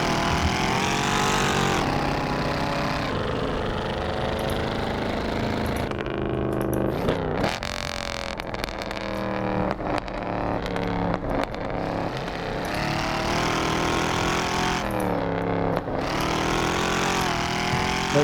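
A Mercedes C63 AMG engine roars on a canyon road, revving and surging through several rises and drops in pitch, loud and close, with the exhaust crackling between pulls.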